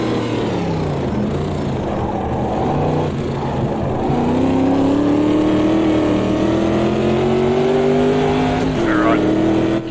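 Race car engines in a racing video game at the Hockenheim circuit, one loud engine holding a steady drone and rising in pitch as it accelerates, with other cars and a brief tire squeal around it.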